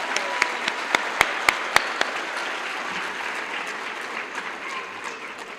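An audience at a high school equivalency graduation ceremony applauds a mariachi band; a few sharp close claps stand out at first over steady, softer crowd clapping that continues throughout.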